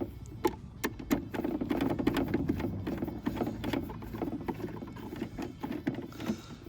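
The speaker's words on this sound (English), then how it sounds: "you've got some screws to screw in, and that should hold that." Screws driven into the door of a plastic Omlet chicken coop, giving a rapid, busy run of close clicking, ratcheting taps and rattles that continues steadily throughout, with no talk.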